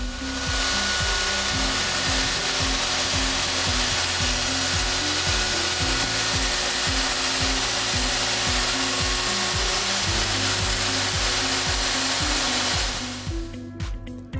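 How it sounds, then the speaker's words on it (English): A power trimmer takes about a millimetre off a worktop jointing face, a loud continuous whine with rhythmic grinding pulses as it runs along the edge, stopping near the end. "The trim barely needs to take 1 millimeter off the worktop, but it ensures the jointing surface is completely flat"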